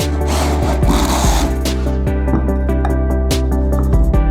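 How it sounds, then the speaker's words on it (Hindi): A glass cutter scores a glass bottle held on a wooden jig, a loud steady rasping grind with a rhythmic repeating scrape as the bottle turns, close up and alone. "देखिए कि हमारा ग्लास कटर बोतल पर काम कर सकता है या नहीं।"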